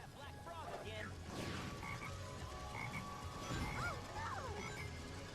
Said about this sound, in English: There's that black frog again.